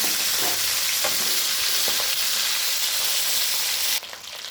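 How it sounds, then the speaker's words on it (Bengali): Fish pieces fry in hot oil in a home kitchen, a steady dense sizzle with a few soft clicks of turning, then the hiss shifts and thins near the end. "মাছগুলোকে আমি এপিট ওপিট করে ভালো করে ভেজে নেব।"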